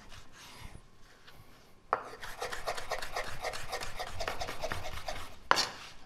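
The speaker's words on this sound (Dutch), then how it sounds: "Ook fijn snijden." Rapid, even knife strokes tap and scrape against a board, finely chopping vegetables in a quick continuous run after a brief quieter moment, ending with a sharper knock.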